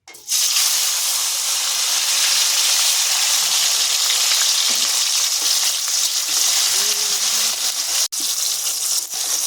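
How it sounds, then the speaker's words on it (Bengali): A loud, steady sizzle of chopped onion and tomato frying in hot oil, hissing continuously with a brief stir near the end. "তেলটা গরম হয়ে গিয়েছে এখানে আমি দিয়ে দেবো টমেটো কুচি পেঁয়াজ কুচি"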